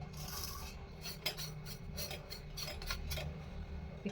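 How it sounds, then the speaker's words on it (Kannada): Rice flour dough for chakli is stirred in a bowl, a quiet run of rapid clinking and scraping taps of a utensil against the bowl's rim, close and steady under a low background hum. "ಇವಾಗ ಇದನ್ನು ಮಿಕ್ಸ್ ಮಾಡ್ಕೊಂಬಿಡೋಣ"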